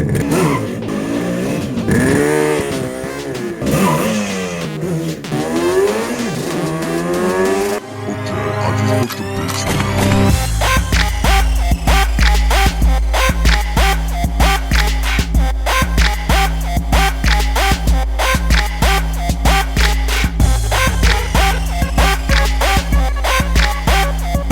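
A Yamaha RD350 motorcycle engine revs up and down with rising and falling whines, then settles into a loud, steady, rapid two-stroke idle close to the microphone.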